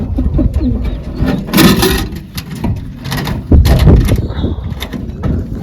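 Caged pigeons waiting to be let out coo in low, throaty murmurs close by, mixed with rustling and a couple of sharp bursts like flapping wings or rattling, with no talking.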